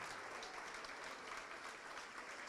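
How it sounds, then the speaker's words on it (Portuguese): A church congregation claps together in a steady, dense wash of applause, fairly faint and distant-sounding, with no voices standing out. "vamos aplaudir ao nome de Jesus por cada vida que está chegando"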